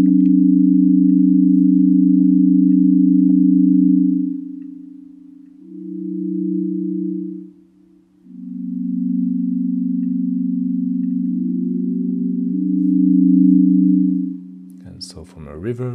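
A monophonic synth patch built in plugdata and run through Ableton reverb and delay holds low, sustained tones that glide between pitches and then smear into an echoing wash before a brief clatter at the end.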